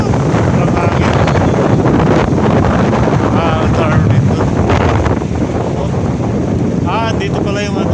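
Strong wind buffets the microphone outdoors at Reem Island, Abu Dhabi, a loud steady roar filling the whole clip while people talk over it.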